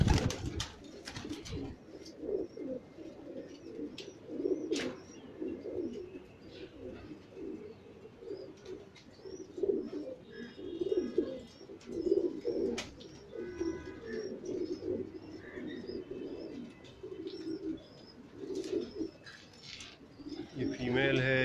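Teddy pigeons coo in a rooftop loft, with soft rolling, overlapping coos continuing throughout at close range, plus occasional light chirps and faint rustling.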